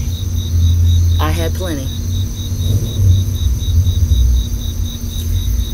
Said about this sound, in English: we're just sitting out here listening to the crickets, cicadas